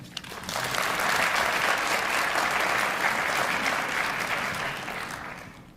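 A university audience at a Founder's Day 150th celebration applauds a chancellor arriving on stage, a full, steady roar of clapping that swells quickly, holds for several seconds, then tapers off.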